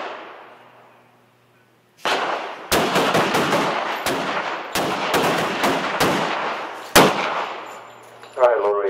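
Handguns fire during an LAPD police qualification course, with loud sharp shots cracking in quick irregular bursts from several shooters, overlapping and echoing, after a quiet opening; a voice speaks briefly at the end.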